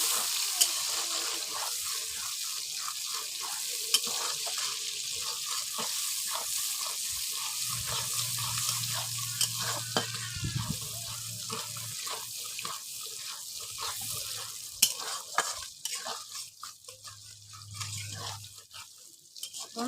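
Onions frying in a pan, a continuous soft sizzle with light crackles and occasional stirring, a low hum coming and going underneath, fairly quiet and steady.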